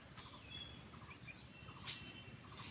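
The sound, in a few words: birds chirping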